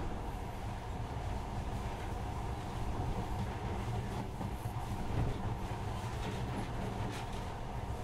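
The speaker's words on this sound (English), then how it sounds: "this monorail seems magic, doesn't it?" A monorail train in the video game Metro: Last Light Redux rolls on with a continuous steady rumble and hum of rail travel, with no talk over it.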